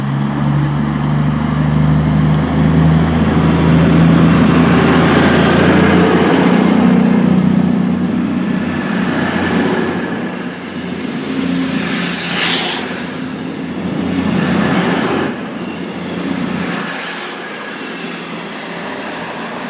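A cross-country passenger train running from Plymouth to Edinburgh Waverley rumbles loudly and close, with steady wheel and track noise and a high metallic squeal rising over it in the second half.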